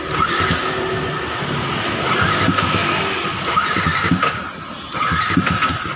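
A Yamaha R15 motorcycle's starter cranks on a jumped battery, making a continuous loud, rough churning with small bumps and a brief dip near the end, and no talking.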